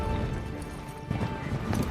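A group of horses turns together in film footage, their hooves clip-clopping in a steady patter at middle distance over ambient background noise.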